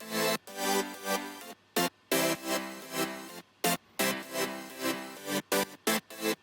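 Bouncy future house synth chords, sidechained with the reverb cut off, pumping in short rhythmic stabs with sharp gaps between hits, loud and dry with no talking.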